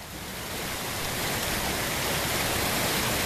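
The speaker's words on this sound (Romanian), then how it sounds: "Apa curge" Floodwater flows after rain in Răzeni, Moldova, a steady broadband rush like a fast stream filling the whole clip, close and constant, with no voices.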